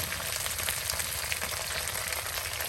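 Drumstick leaves fry in hot oil in a rustic village kitchen, giving a close, continuous crackling sizzle with no voices.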